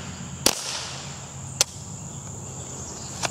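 Three sharp reports from a suppressed Ruger 10/22 rifle outdoors, the first strongest, the last faint, irregularly spaced over a constant chirring insect background.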